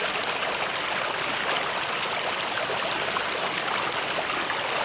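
Water flows steadily through a small canal, a continuous close-up rush and trickle with an even, unbroken level and no voices.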